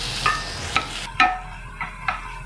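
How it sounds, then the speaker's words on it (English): Finely chopped onion cooking in oil for a Goan ambot tik fish curry: a few separate scraping stirs and clicks over a low background sizzle, close and moderately loud, with no talking. "I will just cook these onions until they are translucent"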